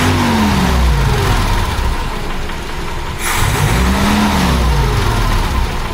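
A 1976 BMW 2002 engine runs with its air pump removed, a loud close idle that dips and rises as the revs are blipped twice, with a top-end knock noted.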